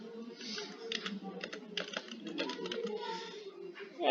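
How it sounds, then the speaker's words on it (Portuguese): Typing on a computer keyboard while building a concept map, with quick clustered key clicks at a moderate level and a voice talking through much of it. "já consegue começar a digitação"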